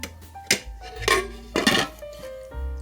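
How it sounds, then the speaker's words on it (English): A slow cooker lid set back in place, with a few sharp clinks and clatters of the lid and pot in a kitchen, close and distinct, no talking. "we're going to put our lid back on"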